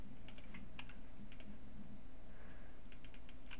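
Quiet computer keyboard typing in short clustered bursts of keystrokes, close and faint, while a layer name is entered in Photoshop.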